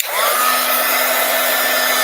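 A hair dryer switches on and runs loud and steady, its motor whine rising briefly at the start and then holding a constant rushing blow up close.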